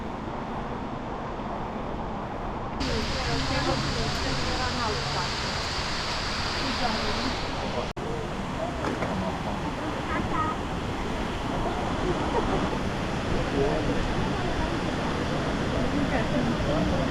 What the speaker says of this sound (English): This is the best view of the Waterfalls.